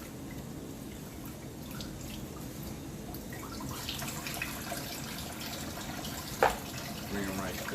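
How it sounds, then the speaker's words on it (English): Tap water runs steadily over a slab of raw spare ribs at a kitchen sink, a soft continuous splashing with a few brief clinks, while a person talks. "I'm just going to rinse them off"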